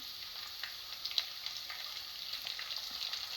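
Peanuts, cashews and green chillies frying in a pan for jowar rava upma, a faint, steady hiss of oil with a few small pops, quiet and without speech.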